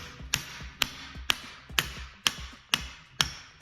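Seven evenly spaced light hammer taps strike a bearing puller during a Reversaru gear kit install on a Subaru 4EAT transmission for a VW bus, each a crisp close metallic knock in a steady rhythm.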